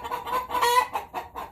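Backyard chickens cluck nearby in a run with briars and brambles, a string of short throaty calls rising into a brief squawk, then a few more clucks in uneven bursts.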